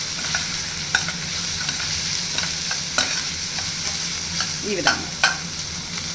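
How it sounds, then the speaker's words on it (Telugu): Ginger garlic paste and chillies frying with onions in a pan for egg fry, a steady close sizzle punctuated by regular scraping clicks of a spoon stirring; a voice speaks briefly near the end. "కొంచెం జింజర్ గార్లిక్ పేస్ట్, చిల్లీస్ వేసి బాగా కలుపుకోవాలి."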